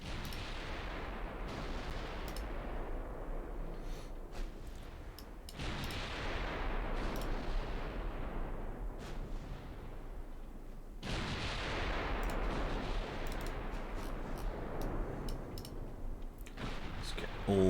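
Naval guns firing in a warship video game, heavy booming salvos at irregular intervals with long rumbling decays, a few sharp crack-like shots between.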